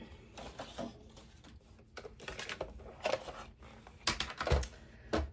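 A paper trimmer cuts cardstock for a scrapbook layout, with soft shuffles and light clicks building to a few louder clacking snaps of the blade close by.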